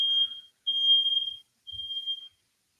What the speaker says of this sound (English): We're having a fire alarm go off.